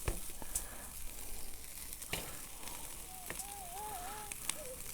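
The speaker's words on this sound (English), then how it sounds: "Listen to that sizzle." Chicken sears on a hot cast iron pan over a Weber kettle grill, giving a faint steady sizzle and hiss with scattered crackles and pops, quiet and close, while a faint whistling tone drifts in near the end.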